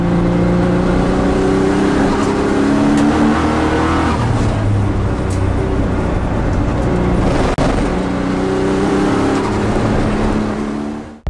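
A modified race car with custom suspension drives hard at Yokohama Superlap 2008, its engine roaring loud and close, revs climbing and dropping through gear changes before cutting off abruptly at the end.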